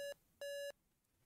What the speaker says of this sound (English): don't know what's beeping.